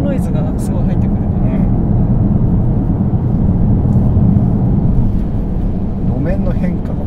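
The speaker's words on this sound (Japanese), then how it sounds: "ロードノイズがすごい入ってくる。" Loud, steady road noise fills the cabin of a Toyota GR Corolla Morizo Edition on high-grip tires driving on a public road, a constant low rumble with a higher-pitched hiss layered on top.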